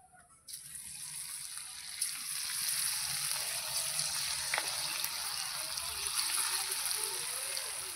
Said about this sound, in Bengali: দেখুন কত সুন্দর আওয়াজ হচ্ছে। এগুলো ভাজা হয়ে গেল